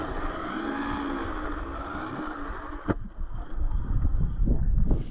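A brushless Arrma Typhon Grom RC car runs on a track with a steady whirring drone, then a sharp knock and rougher, louder bursts of motor and tire noise toward the end, with wind on the microphone and no talking.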